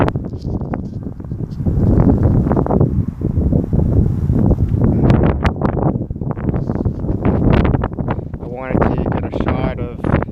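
Cold winter wind at about -2 °C buffeting a microphone during an outdoor jog, loud rumbling gusts that surge and fade throughout, with brief rustling near the end.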